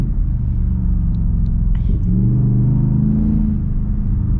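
2023 Ford Raptor R pickup engine revving while driving, a loud steady low rumble that rises into a strong rev in the middle of the clip, with no talk over it.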